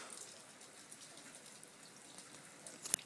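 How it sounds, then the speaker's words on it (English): Rain falling during a cold April morning storm, a soft steady patter of drops heard close by on its own, with a sharper splash near the end. "It's raining up a storm this morning."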